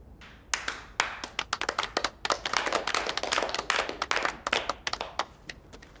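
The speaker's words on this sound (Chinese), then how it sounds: "鼓掌。" A small gathering at a military meeting of the 115th Division bursts into brisk applause, a dense patter of hand claps lasting several seconds before thinning out.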